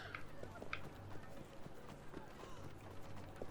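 Hooves of a galloping horse in the Assassin's Creed Syndicate game, set in Victorian London, thud in a quick uneven rhythm under game background noise, moderately loud.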